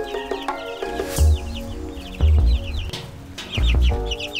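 Young chickens moving into a new minimalist A-frame coop cluck and chirp close by, with three louder bursts of fluttering wingbeats as birds fly out, amid busy overlapping calls.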